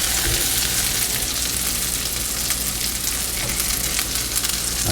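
A Salisbury steak patty sizzles steadily in bubbling sauce as it is flipped in the pan, a loud, close, unbroken crackling hiss with a few soft bumps of handling.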